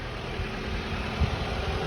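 A 2007 Ford Focus 1.8 petrol engine idles steadily at close range, a smooth continuous low hum with no pauses or other noises.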